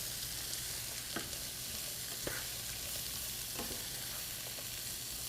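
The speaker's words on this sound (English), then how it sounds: "Let's add our chopped yellow squash. Let's give it a stir." Chopped yellow squash sizzles in a hot pan with a steady, soft hiss, while a utensil scrapes and stirs in a few distinct strokes, close and fairly quiet, with no voices.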